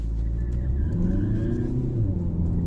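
A Ford Focus 1.5 TDCi automatic accelerates at full throttle up a slight incline, its diesel engine giving a loud, steady droning rumble heard from inside the car, with no talk.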